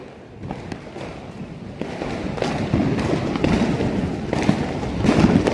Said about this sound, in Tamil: வெடிச்சத்தம் கேட்காத இடமே இல்லை.